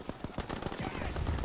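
A grease gun fires in a WWII shooter game, a rapid burst of automatic gunfire with sharp repeated cracks through the whole short stretch, loud and close.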